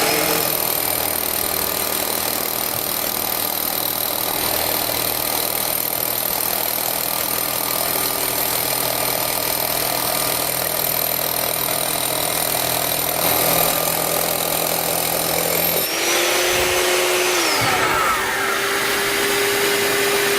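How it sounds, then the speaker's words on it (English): DeWALT DWV012 10-gallon dust extractor running steadily with a constant whining drone, joined near the end by a drill boring in, a rising mechanical whir layered over the extractor's hum. "all I need to do is put the drill bit where I want it and pull the trigger"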